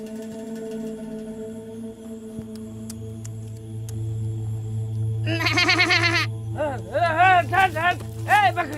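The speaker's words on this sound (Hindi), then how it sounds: "किसका बकरी है रे" A goat bleats several times close by in a cartoon scene, with wavering cries in two bursts over a steady low hum.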